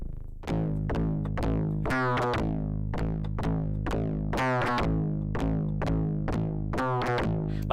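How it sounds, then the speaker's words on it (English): A distorted, buzzy phase-distortion 808-style bass synth plays a repeating rhythmic pattern of punchy notes with pitch sweeps, alone with no voices. "So that is phase distortion."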